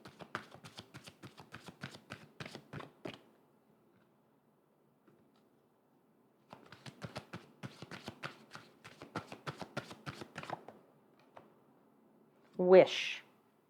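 Tarot cards are shuffled in two long bursts of quick, soft riffling taps, close and quiet, with a brief louder knock near the end.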